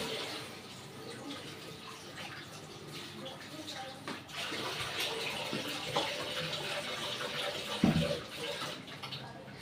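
Tap water runs steadily throughout, a continuous broadband wash over a kitchen sink as pumpkin flowers are set to soak, with a brief clunk near the end and faint background activity.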